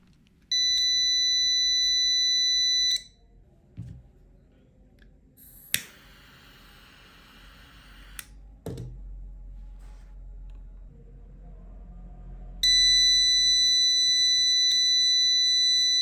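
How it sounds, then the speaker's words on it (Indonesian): A steady electronic buzzer on an Arduino temperature alarm sounds alone in two sustained bursts, one near the start and another toward the end, with a few sharp clicks and a brief whir in between. "sistem rangkaian akan secara otomatis menyalakan buzzer dan juga relay"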